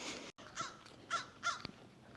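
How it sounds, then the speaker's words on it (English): A crow cawing several times outdoors on a mountain hike near Kuwohi Tower, short harsh calls at moderate distance over faint background ambience, no talking. "Oh, I hear the bird crowing."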